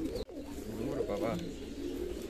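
Pigeons at a pigeon farm housing high-flying, racer and fancy breeds, giving low rolling coos close by over a continuous soft background murmur, with a brief break near the start.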